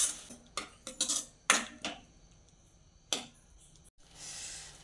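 Spoon scraping and clinking against a pan as green spinach gravy is stirred into fried spices for palak paneer, a series of sharp close metallic knocks and scrapes with quiet gaps between, no voices.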